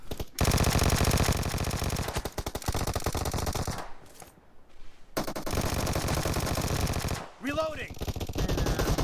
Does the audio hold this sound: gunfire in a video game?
yes